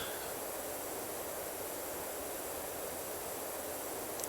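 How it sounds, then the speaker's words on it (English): Steady broadband hiss of a pressure washer's water spray in the video game PowerWash Simulator, stuck in a glitched loop; a constant, even wash of noise with no breaks and no voices. "the sound glitched and there's just the water noise going in the background, so it's like white noise"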